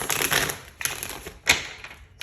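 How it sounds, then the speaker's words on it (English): Crisp papery riffling in short bursts, a few quick flurries of cards being shuffled close by with brief pauses between. "I like to shuffle again for you guys"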